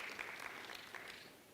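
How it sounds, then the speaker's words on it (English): Audience applause at a biodiversity economy and investment conference, a short burst of scattered hand clapping, faint and fairly distant, fading slightly toward the end. "Can we give him a round of applause?"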